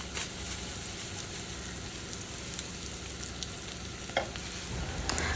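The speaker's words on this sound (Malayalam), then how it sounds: "കരിഞ്ജീരകം ആ ഒരു എണ്ണയിൽ കിടന്നൊന്ന് മൂത്ത് വന്നോട്ടെ കേട്ടോ" Black cumin and onions fry in oil with a continuous close crackling sizzle, like light rain on a surface, marked by a few sharp pops and clicks near the end.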